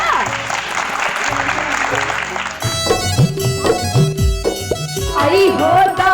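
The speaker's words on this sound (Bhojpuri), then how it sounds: "तो ताली हो जा।" An audience at a folk music performance breaks into applause that runs for a couple of seconds before a band with singing starts up.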